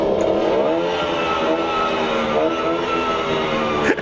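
A motorbike engine revs steadily with rising and falling pitch, loud and close, holding for several seconds before a brief clatter at the end, inside a cruise ship's La Piazza lounge on the Disney Fantasy.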